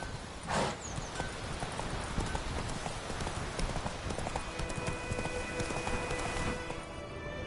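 Horse hooves clip-clopping in the video game The Witcher 3, a steady rhythmic gallop of close, clear hoofbeats running continuously, with a short whoosh early on and a soft ringing tone later.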